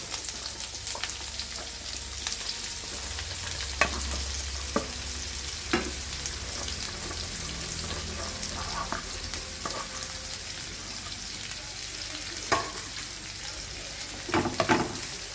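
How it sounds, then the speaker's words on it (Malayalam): Chopped bitter gourd sautés in a pan with oil and curry leaves, giving a constant sizzle punctuated by occasional sharp taps and scrapes of a stirring spoon against the pan. "പാവയ്ക്ക നമുക്കൊന്ന് വഴറ്റിയെടുക്കാം"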